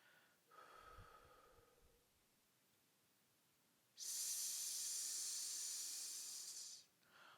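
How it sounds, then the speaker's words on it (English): A singer exhales a steady breath in a long hiss for about three seconds, close and clear, after a brief quieter breath and a soft inhale, ending with another short intake of air. "at first start just on a 3 count, just so that we can feel what it's like to have the breath releasing"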